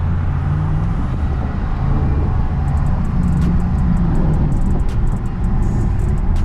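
A heavy truck's engine revs and accelerates hard at around 2,500 RPM, a steady loud low rumble with rising tonal bands, close by and without talk.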